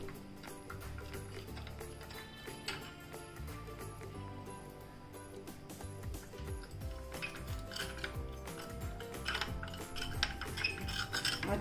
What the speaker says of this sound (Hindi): इसमें थोड़ा थोड़ा दूध ऐड कर इसको अच्छे से मिक्स करूँगी